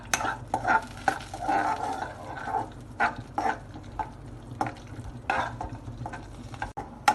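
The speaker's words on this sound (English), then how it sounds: "Fry it until you get some nice color, roasted color." Dry fruits fry in ghee for kheer, a light sizzle under repeated close spoon stirs and scrapes against the pan, arriving in uneven bursts of a few per second.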